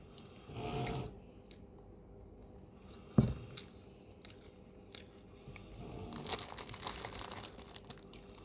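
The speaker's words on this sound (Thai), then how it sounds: "ขออนุญาตกินข้าวก่อนนะคะ" Someone eats rice with dried fish-gut curry, with soft close-up chewing and a few sharper bites and crunchy crinkles spread across a quiet room, no talking.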